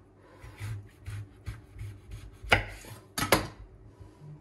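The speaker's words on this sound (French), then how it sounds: "Donc je coupe mes 4 citrons." Knife cutting and hollowing fresh lemons, with a run of soft, rhythmic scraping strokes followed by a few sharper, louder cuts near the end, close up with no talk.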